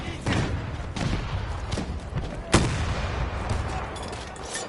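Battlefield 2042 combat with a rocket launcher fired at an enemy vehicle: one sharp, loud blast cuts through constant nearby gunfire and rumbling battle noise, with a faint voice underneath.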